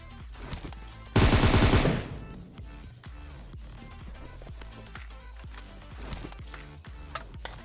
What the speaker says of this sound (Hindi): लेकिन भाई पीछे से होने लगते हैं फायरिंग